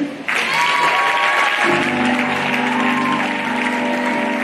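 Sustained applause from a church congregation, loud and close, running steadily after a brief quiet start.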